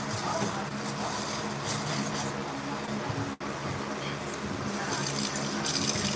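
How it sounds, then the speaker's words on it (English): Rice being rinsed in a kitchen sink under a running tap, with a steady, close, full splash of water flowing continuously and one brief dip in the flow. "I check for little kernels in the rice, and then I rinse it off"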